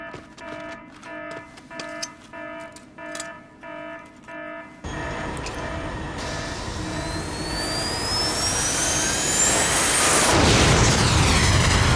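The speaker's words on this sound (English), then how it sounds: "Fisher, you need to abort that missile" A missile launch in the stealth game Splinter Cell Chaos Theory: a rhythmic alarm-like tone pattern gives way to a loud roaring rocket blast that swells steadily and rises in pitch, with no speech.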